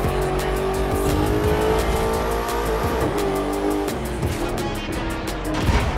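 A Maserati and a McLaren race in the video game The Crew 2, with continuous loud engine roar, shifting revs and tire squeal, the cars close and constant throughout.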